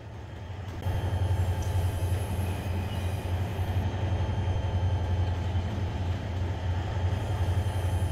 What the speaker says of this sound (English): we actually have one more train coming